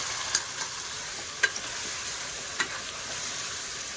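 Mutton sautéing dry in a pan with browned onions, no water added, for mutton rassa: a faint, steady sizzle with a few soft clicks from stirring.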